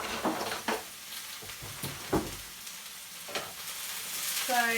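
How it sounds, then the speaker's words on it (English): Chopped vegetables for a breakfast frittata cook down in a frying pan with a soft steady sizzle, broken by several sharp scrapes and knocks of stirring, and no voices. "So the veg is just going to cook down a bit."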